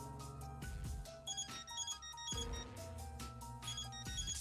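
Phone ringtone in the video game Death End re;Quest: a bright electronic melody of repeating tonal notes, steady and fairly loud over game music, with no talk.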